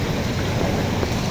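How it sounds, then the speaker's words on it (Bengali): Heavy rain pouring down in front of New Market in Faridpur amid street flooding, a dense, continuous roar of water close by with no voices. "প্রচুর বৃষ্টি হচ্ছে"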